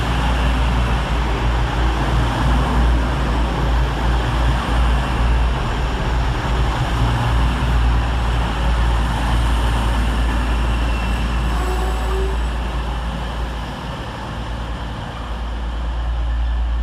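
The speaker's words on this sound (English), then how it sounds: "Whilst arriving next into the station is 222005, running 8 minutes late with the 1343 East Midlands Railway service from Nottingham to London St Pancras." East Midlands Railway Class 222 diesel unit 222005 arriving at Leicester station on a Nottingham to London St Pancras service, a continuous loud low engine drone and rumble that holds steady before easing slightly near the end.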